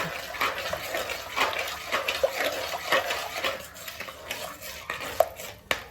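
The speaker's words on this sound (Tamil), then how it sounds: "அதை வந்து அந்த எண்ணெயில் போட்டுக்கலாம் போட்டுட்டு வெட்டி கிண்டி விட்டுக்கலாம்" Homemade ground curry masala powder is stirred into hot oil in a pan for a quail egg gravy, with steady spoon scrapes and metallic clinks against the pan and a low sizzle throughout.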